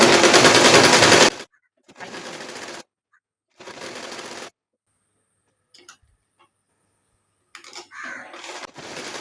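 A sewing machine stitches the side seam of a pajama, starting with a loud burst of stitching that runs alone, then two shorter runs follow after pauses, with a few faint clicks and another brief run near the end.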